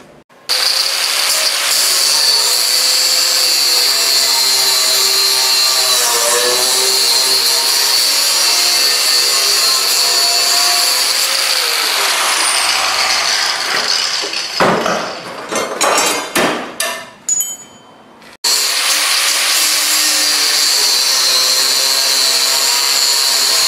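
A cutting wheel notches the corners off steel frame pieces, giving a loud sustained grinding whine that drops into a few choppy bursts, stops briefly, then resumes at full strength.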